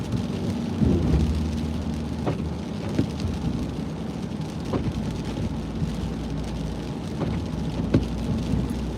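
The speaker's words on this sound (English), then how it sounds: "That was loud lightning." Thunderstorm heard from inside a car on a town street: steady rain hiss with several dull rumbles and cracks of thunder spread across the stretch, no one speaking.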